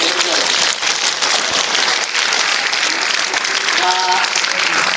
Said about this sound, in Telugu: చప్పట్లు కొట్టండి మేజర్